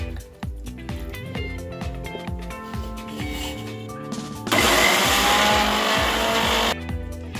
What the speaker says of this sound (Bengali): আগে একটু গুঁড়িয়ে নেব, তারপরে আমি এটাকে জল দিয়ে পিষে নেব